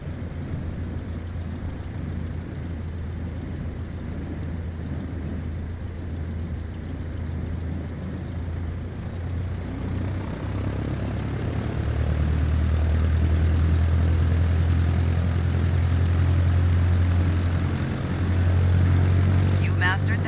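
Propeller airplane engine taxiing in Microsoft Flight Simulator, a continuous low droning hum that swells louder about halfway through and holds steady.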